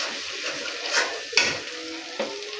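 Spices sizzle steadily in oil while being stirred in a pan for a crab and prawn curry, with a few sharp spoon scrapes and clinks standing out over the hiss.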